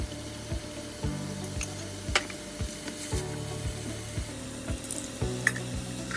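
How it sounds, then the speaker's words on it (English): Cabbage sautés in a pan for sobameshi with a quiet, steady sizzle, broken by a regular series of soft scraping and tapping stirs, and no one speaking. "saute until cabbage gets nice and soft"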